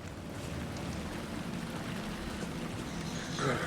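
Steady rain falls in the dark survival-horror game Alan Wake II, a dense, even hiss of drops spread wide, holding at moderate loudness with a brief brighter swell near the end.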